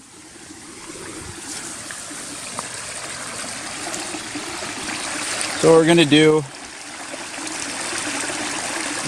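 Creek water rushes and trickles steadily near a waterfall on a backpacking trail, a broad continuous wash, with someone briefly speaking over it midway.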